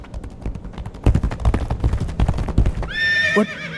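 Horse galloping with rapid hoof clip-clops, then a loud whinny near the end, a sound effect from the Legacy of Kain video game, mixed with a few sharp impacts and heard up close.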